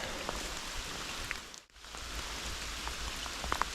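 Steady, dense downpour at a waterside fishing spot in Ukraine, a broad hiss with scattered drop taps, briefly dipping near the middle before resuming.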